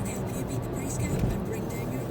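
A turbocharged car pulls hard in third gear on snow tyres, its engine a steady close roar with a faint whistle on top, continuous throughout.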